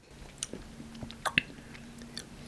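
Cheese stick being chewed close to the mic, a few soft bites and squishy chews with quiet pauses between them and no talk.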